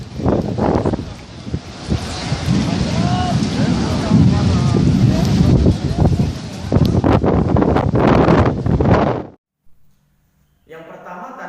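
Natural wind blows hard across an open microphone, a loud, gusty, continuous roar with heavy buffeting that drops out suddenly near the end.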